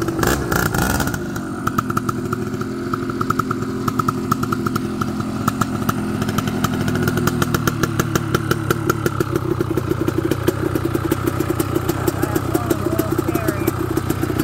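A Suzuki LT250R quad engine revs hard under throttle, a loud, close, rapid-firing buzz that starts with an abrupt burst and holds a rough, pulsing drone. A person speaks over it.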